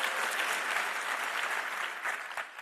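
Crowd at a Turning Point political rally in Ohio breaking into applause, a dense, loud roar of clapping that stays even across the short stretch with no speech over it.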